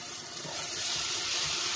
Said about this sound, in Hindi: अब इसको टमाटो प्यूरी जो पीस के रखे टमाटर वो भी डालेंगे हम